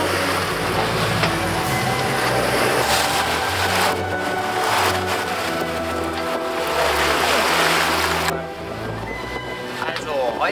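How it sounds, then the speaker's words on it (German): Large waves wash and churn around a Beneteau Oceanis 34 sailboat on Lake Constance, a dense, loud rush of water and wind noise that continues throughout and eases slightly near the end. "Große Wellen."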